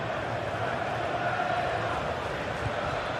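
Stadium crowd in a football video game roars steadily throughout, a dense broadband wash of cheering with no breaks, loud and continuous.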